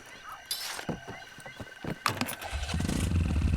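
A moped engine starting in the Far Cry 2 video game: a few clicks and clunks, then a low, steady engine rumble that builds and holds near and fairly loud to the end.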